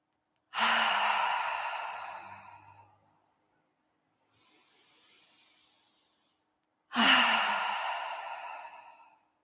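Two long, loud breathy exhales during a yoga breathing practice, each sighing out and fading over a couple of seconds, separated by a softer, quieter inhale through the nose; no talking.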